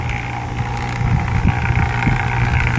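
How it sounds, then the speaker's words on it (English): Steady wind rushing outdoors, a continuous low roar with gusty swells, no voices. "It's getting all windy."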